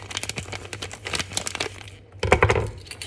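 Bag of pre-measured flour being cut open while making cookies, heard as close crinkling and crackling of packaging with short tearing bursts, louder toward the end, with no talk.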